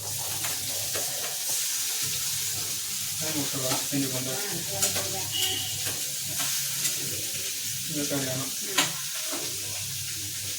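Onion, tomato and ginger frying in a pan, with a constant close sizzle and repeated stirring scrapes. Faint talk now and then under the cooking noise.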